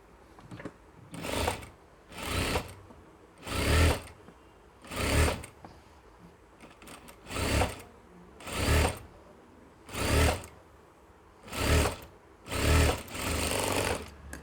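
Sewing machine stitching a frock-style nighty, running in about a dozen short, evenly spaced bursts of rapid stitching with quiet gaps between them, close and clear with no talk.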